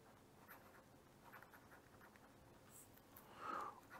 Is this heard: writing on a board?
yes